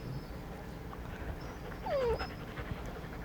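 Small dogs panting and snuffling close by during a dog yoga session, with a brief whimpering rise in the middle; steady, soft breathy rhythm throughout.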